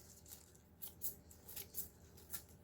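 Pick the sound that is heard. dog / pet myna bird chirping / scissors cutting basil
scissors cutting basil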